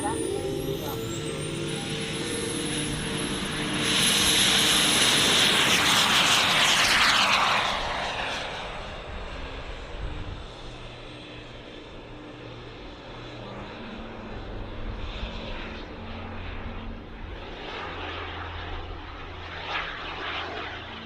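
A model aircraft takes off at the Weston Park Model Air Show, its engine building to a loud, close whine and roar before fading into the distance under a steady hum of background noise and faint talk.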